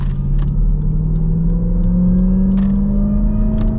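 A 2023 Dodge Durango Hellcat three-row SUV with its supercharged V8 accelerating hard in sport mode: a loud, steady engine roar that climbs smoothly in pitch throughout, heard from inside the cabin with no talking.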